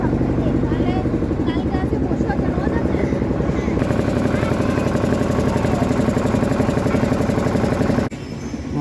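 A ferry boat's engine drones loud and steady on a river crossing from Hulorghat to Mayapur, a constant close rumble that drops briefly near the end, with voices talking over it.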